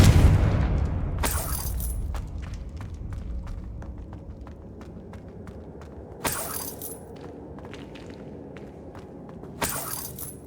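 A Confringo blasting spell explodes in Hogwarts Legacy, a loud booming burst at the start that fades into scattered crackles and footsteps, followed by two sharper bright impacts later on.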